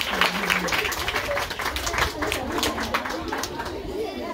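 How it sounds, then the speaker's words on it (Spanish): Applause and crowd chatter fill the space continuously at a Mother's Day celebration at a small school in Piedras Lisas, Joyabaj, a dense wash of clapping mixed with overlapping voices nearby. "¡Aplausos!"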